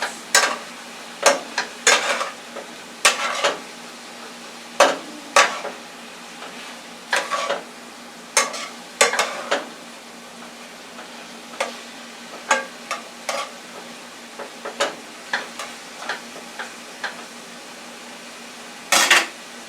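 Potatoes seasoned with black pepper being stirred in a pot for a salmon stew, a series of sharp spoon scrapes and clinks against the pot over a faint steady sizzle, close and irregular.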